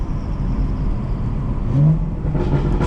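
A BMW engine rumbles close by with brief blips of revving as it downshifts, the aftermarket exhaust burbling and rising in short bursts.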